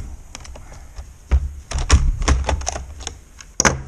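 Battery of a ZKH 16V cordless drill being fitted into its charger, heard as a series of close plastic clicks, knocks and thunks, irregular and fairly loud.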